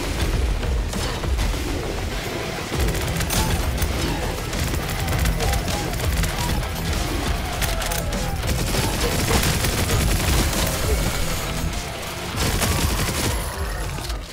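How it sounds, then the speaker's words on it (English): A minigun and flamethrower in The Alluvion fire in a continuous dense roar of rapid shots and rumbling blasts, loud and sustained for the whole stretch. "Or your minigun flamethrower"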